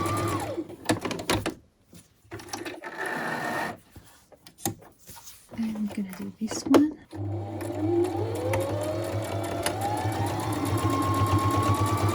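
A sewing machine runs a straight stitch for a craft project of ephemera folios using Heat & Bond, with bursts of stitching that give way to a steady, continuous hum in the second half.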